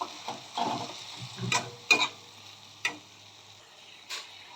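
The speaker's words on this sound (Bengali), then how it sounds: "ভালো করে কষে নেব" Quiet sizzling of an egg curry being sautéed in a pan with salt and turmeric, broken by several sharp scraping and stirring clicks from a spoon against the pan.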